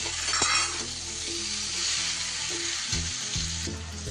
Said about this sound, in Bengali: সব কিছু এবার খুব ভালোভাবে মিশিয়ে নেব।